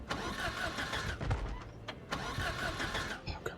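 A car engine in the Project Zomboid video game cranks repeatedly while trying to start, two whirring bursts of starter grind separated by a brief pause, moderately loud with no talking.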